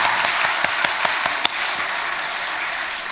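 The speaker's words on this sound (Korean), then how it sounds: "저쪽 박수." A church congregation applauds, a few distinct sharp claps in the first second and a half over a dense wash of clapping that carries on steadily and fairly loud.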